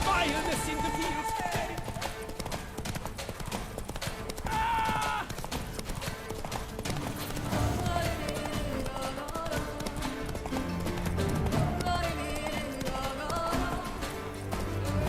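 Horse hooves clip-clop steadily in The Witcher 3 as the horse Roach travels, a continuous rhythmic patter mixed under game music and character voices.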